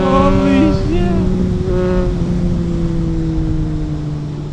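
Triumph Trident 660 triple with a custom exhaust as the throttle snaps shut, a loud close engine note falling into a steady droning overrun that slowly fades, with a brief voice near the start.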